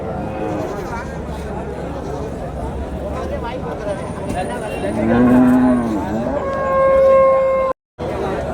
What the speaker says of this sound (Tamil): இந்த கண்ணுக்குட்டிங்க அவ்வளோ சின்ன சின்ன சின்ன அழகான கண்ணுக்குட்டிங்க